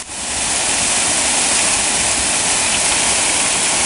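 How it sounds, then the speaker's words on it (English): A small waterfall on Ledbetter Creek beside the Bartram Trail roars loud and close, a constant hissing rush of falling water that holds steady with no voices or other sounds. "Nice little waterfall right off the off the trail."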